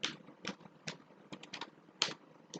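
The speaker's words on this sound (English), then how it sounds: "I'm typing here education" Typing on a computer keyboard in separate, irregular keystrokes, about a dozen distinct close clicks with short pauses between them, no talking.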